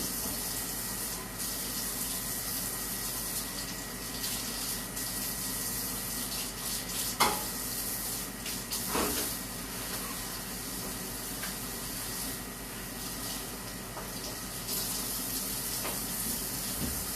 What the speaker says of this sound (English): And then I'm going to go wash my hands and my board and my knife